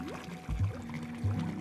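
Water trickling and pouring through a puzzle contraption in the whimsical adventure game Samorost 3, a soft burbling liquid flow with a couple of gurgling surges and faint ambient music underneath.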